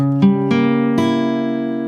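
A clean guitar rings out a few picked notes of a diminished chord in quick succession, each one sustaining and blending into a shimmering chord that slowly fades.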